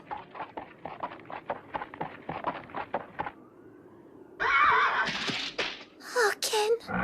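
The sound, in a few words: horse neighing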